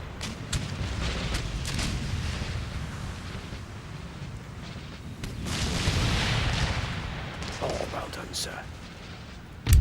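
Cannon artillery fire in Empire Total War, a battle for Dresden with Great Britain: a continuous rumbling barrage of booms and volleys, swelling loud midway, with someone speaking briefly over it.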